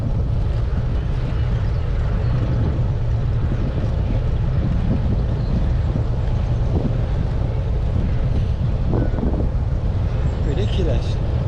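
Strong wind roars into a GoPro microphone during a bike ride, making a constant heavy low rumble and buffeting that lasts the whole stretch.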